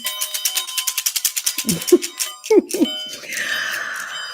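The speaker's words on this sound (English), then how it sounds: "I sound this bell, which activates our spell." A small ritual bell is struck during a tarot and moon magick reading, giving a bright, sustained ringing series of rapid strikes that fade into a long shimmering tone, with soft thumps and handling noises in between.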